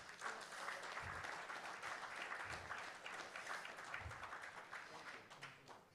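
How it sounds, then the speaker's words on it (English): Sustained audience applause fills a hall at a national school quiz final, steady dense clapping throughout with a few soft low thumps beneath. "Give him a round of applause."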